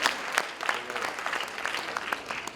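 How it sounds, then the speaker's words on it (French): Audience at a film award ceremony closing event clapping for a best actress winner, a moderate burst of dense hand claps heard from within the room, steady and fairly loud. "Aïe Yara Keita, que je vous demande d'applaudir parce qu'elle est là."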